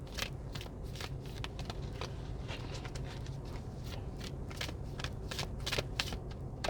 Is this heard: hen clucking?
no